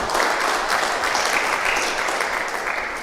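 Crowd at an outdoor political party meeting in Diego Martin applauding in a thick, continuous burst of clapping, fairly close and loud, easing off slightly at the end.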